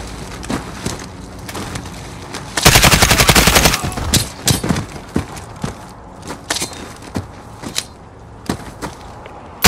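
Gunfire in Call of Duty Modern Warfare: scattered single shots, then a loud sustained burst of rapid automatic fire, followed by irregular sharp cracks and clatter, close and punchy, with no talking.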